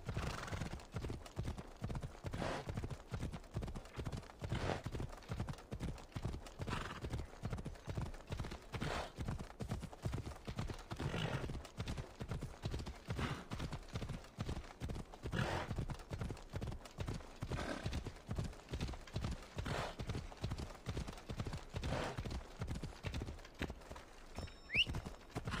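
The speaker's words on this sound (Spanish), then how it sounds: "Ahora, este es mi caballo." Horse hooves in the Assassin's Creed Odyssey video game, a steady, even clip-clop of a walking horse that repeats in regular rhythm for the whole stretch, fairly quiet and unaccompanied by talk.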